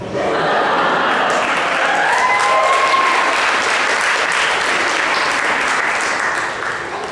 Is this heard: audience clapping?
yes